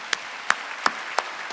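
A church congregation at a Wednesday worship service claps in unison, four sharp, evenly spaced claps with no voices over them.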